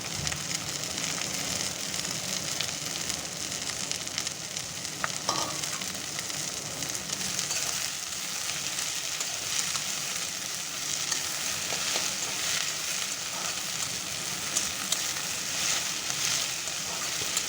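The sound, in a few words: drumstick leaves frying in a pan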